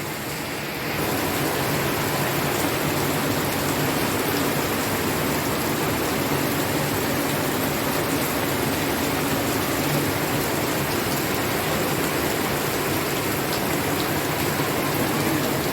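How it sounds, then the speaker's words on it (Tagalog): Heavy rain pours down in a dense, steady roar that continues without a break from start to finish, loud and close, with no voices over it. "malakas ang ulan."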